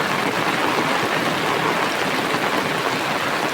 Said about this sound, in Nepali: यत्रो पानीको गाड चलिरहेको क्या रोडमा